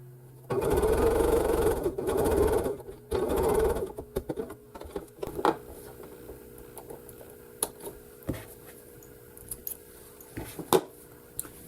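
Sewing machine stitching a frayed four-patch quilt block, running in three steady bursts of a few seconds each, then falling quiet with scattered light handling clicks and rustles.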